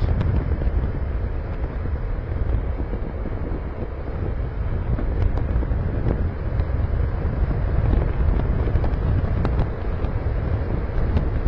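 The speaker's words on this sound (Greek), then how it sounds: "και σας έρχεται πολύ αέρας." Wind roars steadily against a rider on a Honda NT1100 motorcycle cruising on the highway with its windscreen lowered, a constant loud rushing buffet with no break.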